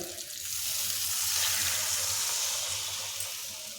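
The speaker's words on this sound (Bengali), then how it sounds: "এখন দিয়ে দিচ্ছি জল" Water is poured into a hot pan of spiced pointed gourd curry, raising a close, steady hissing sizzle that swells and then slowly eases over a few seconds, with no talking.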